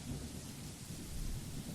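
Steady rain with a low rolling rumble of thunder in a horror visual novel game, a dense continuous downpour wash without talk.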